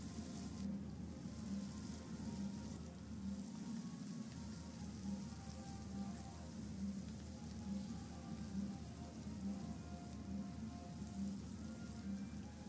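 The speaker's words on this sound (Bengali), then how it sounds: "এবার পেঁয়াজটা আমি একটু ভেজে নেব। খুব লাল করে ভাজার দরকার নেই।" Onions frying in oil in a pan for chicken do pyaza, a steady, even crackling sizzle throughout at low volume with no talking.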